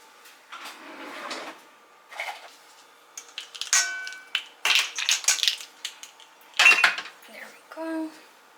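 Pumpkin pie filling with cinnamon, ginger, nutmeg and salt being mixed in a bowl: irregular scraping, knocking and clinking of a utensil against the bowl in uneven bursts, fairly close.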